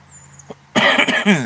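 A single harsh cough bursts in after a near-silent pause, loud and close, with a rough throaty rasp trailing off at the end.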